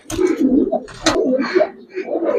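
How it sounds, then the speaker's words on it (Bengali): A big male Giribaz pigeon coos close by in a few throaty, rolling bursts, loud and clear with no talk over it. "বিগ সাইজের কবুতর"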